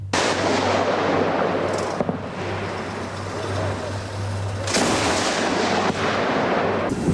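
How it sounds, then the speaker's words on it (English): Gunfire from RPGs and machine guns in a combat zone, heard as a continuous loud roar of shooting and blasts with a steady low drone underneath and sharper bursts near the middle and end. "They fire with RPGs and machine guns."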